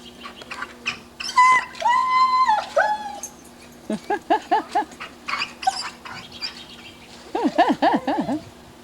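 A dog whines in high, wavering cries, then lets out a series of short yelps and sharp barks, close by and insistent.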